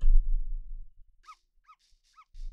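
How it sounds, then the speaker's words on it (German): Short, bright yips and barks from a dog in the video game Yoshi's Crafted World come in a quick run of four or five calls after a low rumble fades, then the rumble returns. "Oh, der Hund, der ist ja richtig süß."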